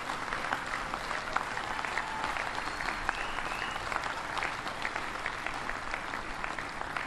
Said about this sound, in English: Would you mind giving all the Hoosiers who are here a big, big round of applause, especially those 2 on the crew?